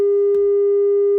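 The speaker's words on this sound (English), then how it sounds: "since it is a sine wave" A pure sine wave synthesizer tone, made while building a synth patch, holds steady and loud with faint harmonics for just over a second, then dips in pitch as it ends.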